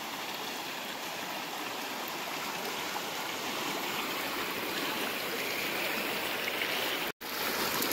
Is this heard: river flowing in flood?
yes